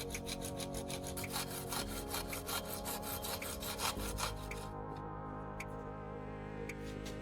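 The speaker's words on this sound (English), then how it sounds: "Using a hacksaw, I'm carefully cutting out the rectangular opening on the PVC pipe" A hacksaw cuts through PVC pipe in quick, regular back-and-forth strokes, close up and alone. The sawing eases into lighter, scattered scrapes over the final seconds.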